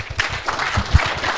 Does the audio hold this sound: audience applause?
yes